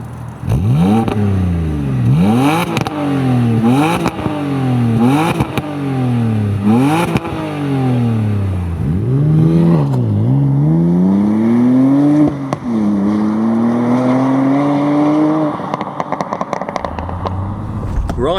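A BMW Z4 Coupe driving on the road, its engine revving up through repeated gear changes with rising and dropping pitch, then a longer sustained pull, loud and close with light clatter and no talking.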